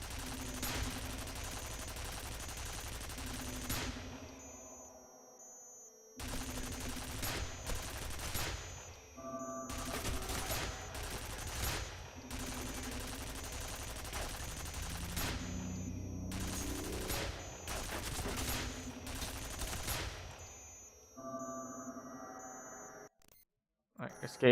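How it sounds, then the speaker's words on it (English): Machine gun fire from a mounted gun in the game F.E.A.R., long sustained bursts of rapid shots broken by short pauses, loud and steady with a faint electronic tone running under them. "Do I just have to hold down the trigger until I use up all the ammo?"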